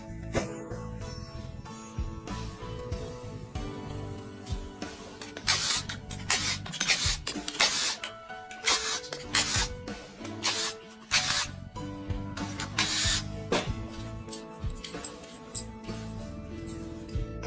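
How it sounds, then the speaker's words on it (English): On a Zontes 150 motorcycle engine, the oil pump with its nylon gear is worked loose, giving close scraping and rubbing bursts with metallic clicks that come in irregular spurts, with no talk. "Now I'm removing the oil pump."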